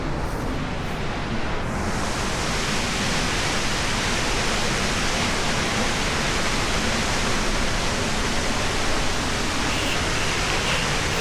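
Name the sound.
Juneau Falls waterfall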